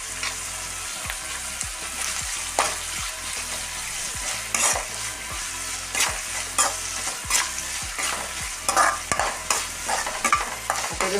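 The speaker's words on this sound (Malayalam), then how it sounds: "വെളുത്തുള്ളി കുറച്ച് ഫ്രൈ ആവണം." Garlic and green chillies frying with a pinch of salt for a cucumber curry: continuous crackling sizzle under repeated rhythmic scrapes of a spoon stirring the pan, close and clear with no talking.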